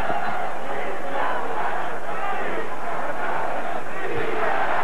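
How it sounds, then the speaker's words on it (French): A packed arena crowd at the Juan Manuel Marquez vs Manny Pacquiao boxing match chants loudly and rhythmically, a dense roar of many voices rising and falling in steady waves. "Et la foule, naturellement, qui scande"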